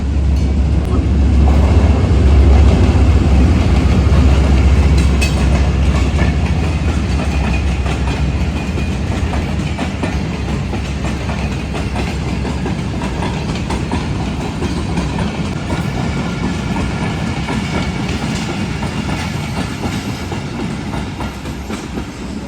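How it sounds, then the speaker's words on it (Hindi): The Shalimar Express train runs on rails with a loud, continuous rumble and rhythmic clickety-clack of wheels over track joints, heard close from onboard. "28 डाउन शालीमार एक्सप्रेस मिल चुकी है हमें"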